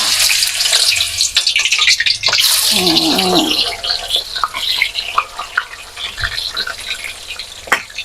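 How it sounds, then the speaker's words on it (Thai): Banana slices frying in hot oil for Thai banana chips, a loud, busy sizzle with bursts of bubbling and the clink and scrape of stirring, steady throughout. "เราก็มาทอด ถัดไปทอดไปเรื่อยเลยค่ะ"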